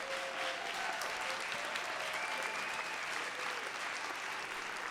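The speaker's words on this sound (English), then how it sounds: "Ladies, please give a round of applause to Miss Adrienne Fowler and Miss Nefertiti Frazier." An audience applauds two award honorees at a live Soup City awards event, with sustained, even clapping from a sizable crowd filling the room, somewhat distant and without a break.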